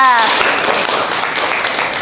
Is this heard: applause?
yes